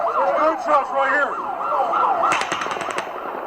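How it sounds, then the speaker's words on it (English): Automatic gunfire during the Route 91 Harvest festival in Las Vegas: a quick burst of roughly eight sharp, distant cracks follows a stretch of wailing, shouting voices, all over a steady crowd and background din. "There's gunshots coming from over there!"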